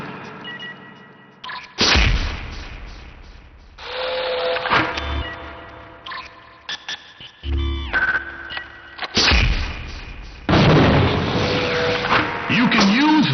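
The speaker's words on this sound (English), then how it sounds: "Using a timed trigger setting, you can make your mule into a grenade launcher" MULE weapon set to timed trigger in the sci-fi shooter Gunman Chronicles, launching grenades on an asteroid training range: several separate bursts of launches, blasts and mechanical clicks, with a voice speaking at times.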